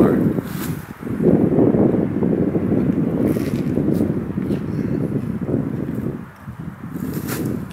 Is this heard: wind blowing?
yes